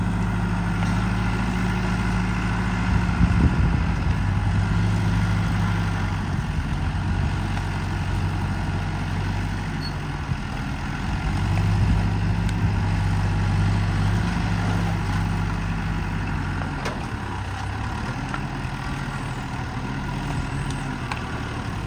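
A Komatsu bulldozer's diesel engine rumbles low and steady while pushing a pile toward the center, loud and continuous with slight swells in load and no speech.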